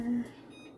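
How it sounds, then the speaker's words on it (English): A kitchen timer being set gives one short, steady electronic beep up close, followed by a faint higher tone against quiet room noise. "Set the timer."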